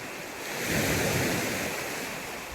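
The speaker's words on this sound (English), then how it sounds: "I don't know if you can hear me over these waves. So strong." A strong ocean wave surges and crashes, swelling to a roaring peak then easing into a sustained wash, with wind noise on the microphone, at Sleeping Giant Provincial Park.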